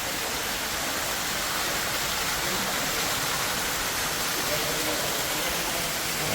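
Water pours steadily into a bathtub in a farmhouse bathroom, a continuous broadband rushing hiss that stays even and fairly close throughout, with no pauses and no voices over it.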